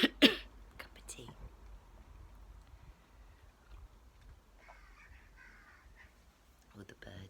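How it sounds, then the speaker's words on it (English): A crow caws loudly outdoors in a short burst at the start, followed by quieter rustling ambience and faint, distant bird chirps toward the end. "All the birds are singing to me while I drink my tea."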